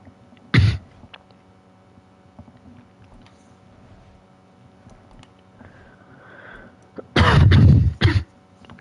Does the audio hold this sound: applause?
no